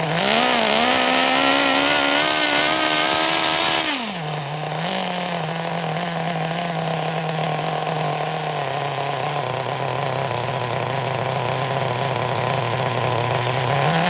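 A Kyosho nitro RC car engine warms up close by with a continuous loud, buzzy whine. It revs high at first, then drops to a lower, steady idle.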